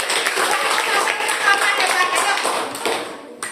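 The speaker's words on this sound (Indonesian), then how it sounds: "Ayo, beri tepuk tangan untuk kelompoknya Gosyudi." Classroom of students clapping for a student group called up to the front, a close, fairly loud burst of dense hand claps that holds steady before cutting off near the end.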